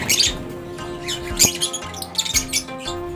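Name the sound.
pet birds squawking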